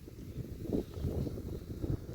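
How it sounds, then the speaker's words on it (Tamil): Wind gusts buffet the microphone in a low, steady rumble beside the water during frog-lure fishing, with no talking. "காற்று வேறு அடிக்குது"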